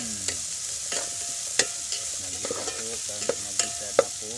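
Garlic, onion and ginger sauté in a pan for adobo, with a steady sizzle broken by repeated sharp scrapes and clinks of a utensil stirring against the pan, close and moderately loud, no voices.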